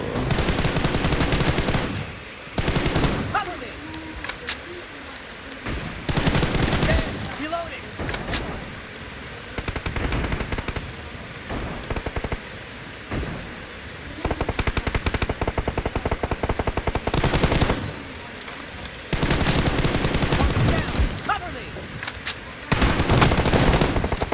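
Bursts of gunfire from the PUBG Mobile battle game, loud volleys separated by quieter gaps, with voices talking in between and over the shots.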